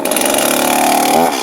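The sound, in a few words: chainsaw being started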